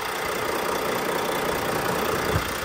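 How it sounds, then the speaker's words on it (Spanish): A vehicle engine runs in a workshop, a steady close mid-pitched idle with a slight knocking texture throughout and no voices. "Se oye nítido ese motor."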